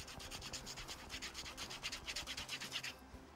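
A potato is rubbed hard back and forth on a woven wire Clearshield product, giving a rapid, rhythmic scratchy scraping that repeats about a dozen times before stopping.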